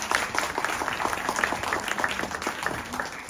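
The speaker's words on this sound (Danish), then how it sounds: "Så fornemt, og vi klapper jer ned igen." Audience applause at an integration prize ceremony, a dense steady patter of many hands clapping that holds at a fairly loud, even level throughout, with faint speech-like murmur beneath.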